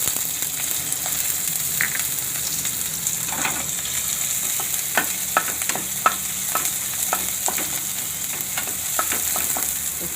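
Onion frying in a pan with curry leaves and ginger for a Gujarati rava and potato snack, a constant loud hiss of hot oil with scattered crackles and occasional stirring scrapes, close up and without talk.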